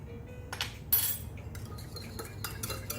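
Utensils clinking against a bowl while stirring a warm quinoa salad with sweet potatoes and carrots, a few light scrapes and chinks over a low steady background hum.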